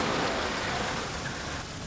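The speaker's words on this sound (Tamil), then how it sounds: "மழை சூப்பரா இருக்குல்ல." Steady, heavy rain pours down in a dense, continuous hiss that fills the whole moment. It is loud and close, with no voices.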